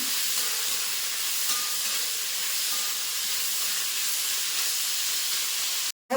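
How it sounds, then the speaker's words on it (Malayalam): Onions fry in a pan for a Kerala egg curry, giving a steady loud sizzling hiss close by that cuts off sharply at the end, with no talk. "സവാള ഏകദേശം ഒന്ന് മൂത്ത് വന്നിട്ടുണ്ട് പക്ഷെ കുറച്ചും കൂടെ മൂക്കണം"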